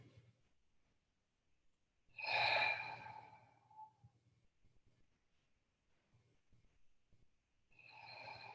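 A slow, breathy exhalation during a gentle back-care exercise session, heard twice: one long soft sigh of breath, then quiet, then a second exhale beginning near the end, close and intimate with no talking.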